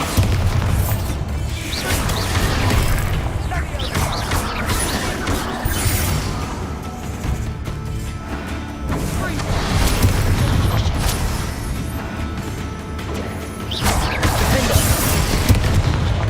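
Bombarda spell explosions in the video game Hogwarts Legacy, loud booming blasts and bursts layered over dense continuous combat noise and game music, with a voice shouting spell names throughout.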